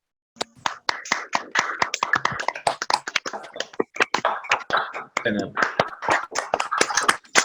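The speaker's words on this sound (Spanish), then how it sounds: "les voy a pedir que ahora sí pongan sus micrófonos para darle un aplauso al doctor" A group applauds a doctor after a medical presentation, sharp, scattered claps picked up through several people's microphones, overlapping unevenly for several seconds.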